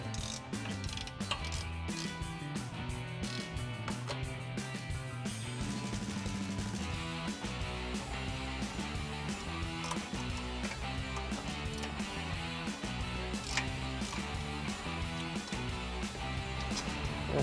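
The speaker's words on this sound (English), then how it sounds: "remove the 3 upper strut mounting nuts with our 15mm ratcheting wrench" A 15mm ratcheting wrench works the upper strut mounting nuts on a 2021-2024 Ford F-150 during a front leveling kit install, its pawl clicking in rapid, steady bursts for the whole stretch, close and clear with no talk.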